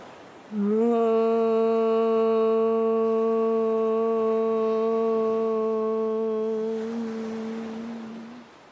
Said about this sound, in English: Let's chant Om sound here.